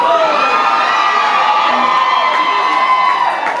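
A live audience at a tribute concert lets out loud, sustained, frenzied screaming and whooping, a dense wall of high-pitched shrieks from many voices that holds steady throughout.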